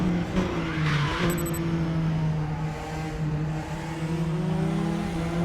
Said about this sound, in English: This is a proper race car, this. The R1 Praga.